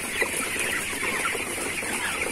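Chickens cluck on a farm where dairy cattle are kept, a continuous close chorus of overlapping clucks and chatter with no voices.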